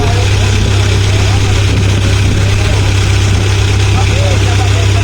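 A loud, steady boat engine on a fishing boat drones and throbs without a break, close by, with a low rumbling hum throughout.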